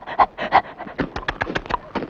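Quick, rhythmic panting from a nearby dog catching biscuits thrown to it, a run of short breathy puffs with a few louder gasps, recorded close and clear.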